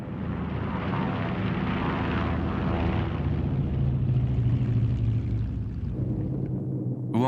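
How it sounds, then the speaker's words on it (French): A de Havilland Heron, a small liaison propeller airliner carrying twelve passengers, drones with a steady loud engine roar and rumble through the whole stretch, the noise holding level with no voices. "Le de Havilland Heron, par exemple, un petit appareil de liaison qui peut embarquer 12 passagers."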